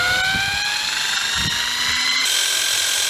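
A homemade spinning-shaft device spins up to a few thousand RPM, a loud, steady whine whose tones rise in pitch over a few seconds under rumbling handling noise.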